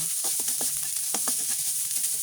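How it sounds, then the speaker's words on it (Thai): Rice stir-fried in a wok with shrimp fat and roasted chili paste, a constant close hiss of frying broken by quick repeated scraping and tossing strokes, no voices. "ก็เอาข้าวลงไปเลยค่ะ แล้วก็คลุกเขา"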